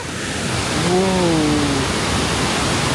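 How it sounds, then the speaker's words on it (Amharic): Water rushes and splashes steadily near a cave among natural mountain scenery in Switzerland, a loud, close, broad roar, with a voice briefly speaking over it. "�ውሃው እየነጠረ ነው እኮ ነው ክሬዚ"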